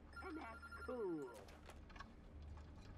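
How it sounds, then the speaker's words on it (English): A telephone rings in the video game Road 96, a brief electronic trill heard once near the start as people talk over and around it. "The phone's ringing."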